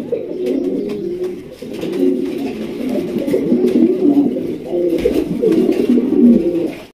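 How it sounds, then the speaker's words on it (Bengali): A pair of red pigeons coo close by in a steady, continuous stream of low, throaty calls that overlap for the whole stretch. "দেখার মতো এক জোড়া কবুতর মাশাআল্লাহ"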